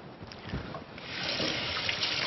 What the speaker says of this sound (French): On rince le couteau.